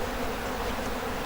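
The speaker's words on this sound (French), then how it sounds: "avec tout ce que j'ai là, j'ai plus du million d'abeilles" Dense buzzing of a large mass of honeybees swarming around open beehives during a honey harvest, a steady close hum with no talking.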